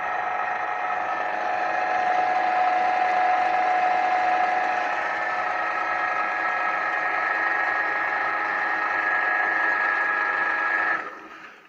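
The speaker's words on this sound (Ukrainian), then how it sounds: "Ось як працює станочок." An M112 bench drilling machine runs steadily with a constant motor whine and hum for about eleven seconds, close and fairly loud with no talk, then winds down abruptly at the end.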